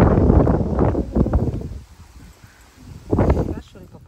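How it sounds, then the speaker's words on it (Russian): Strong autumn wind after rain buffets the microphone in heavy, rushing gusts that die down briefly in the middle and then surge back loudly. "Видите, какой ветер."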